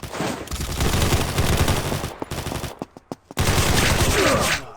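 Automatic gunfire from a firearm in the first-person shooter Combat Master, loud sustained bursts with a few isolated shots and brief gaps in between, no talking.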